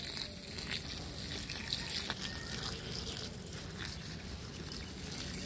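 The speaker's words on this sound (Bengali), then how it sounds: "আমরা গাছে জল দিয়ে নিচ্ছি। আমার সমস্ত গাছের জল এই পাইপের মাধ্যমেই দিয়ে থাকি।" Water from a hose pipe trickles and patters onto potted garden plants, a steady soft wash of spray with faint background noise throughout.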